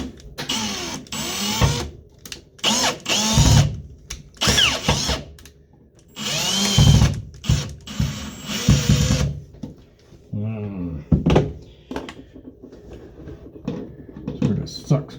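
Power driver bursts as screws are driven into an electrical outlet being replaced with a GFCI, several short whirring runs of varying length starting and stopping, close and fairly loud, with some quieter handling noises between.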